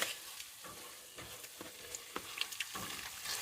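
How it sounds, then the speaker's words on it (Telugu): Masala paste sizzles in hot oil while a spoon stirs and scrapes through it, giving a steady close frying hiss broken by irregular clicks of the utensil against the pan. "ఇది మసాలా యాక్చువల్లీ కింద మాడుతుంది, కంటిన్యూస్గా ఫ్రై అయ్యేంత వరకు తిప్పాలి"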